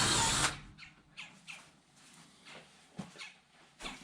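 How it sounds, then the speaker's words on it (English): A power drill bites into a workpiece and binds up, starting with a short loud whir and then giving a series of brief, faint grinding bursts spaced irregularly. "Get that drilled out a little bit more so I can take it in and out if I want to."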